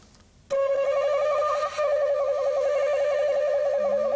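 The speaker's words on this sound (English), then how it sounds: "And then a finger trill, which we call a korokoro." A breathy shakuhachi flute note starts abruptly and flutters in a rapid, steady korokoro finger trill, holding loud and close for several seconds.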